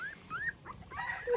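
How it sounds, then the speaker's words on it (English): Newborn puppies, eyes not yet open, in a large litter of a Thai street dog, give thin rising whimpers and squeaks, several overlapping high cries up close with soft rustling underneath. "It's so many puppies."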